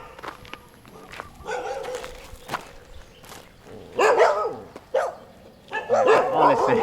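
Stray dogs on a mountain in Phatthalung, Thailand bark aggressively, several sharp close barks and yips coming in clusters, with footsteps and other sounds between bursts.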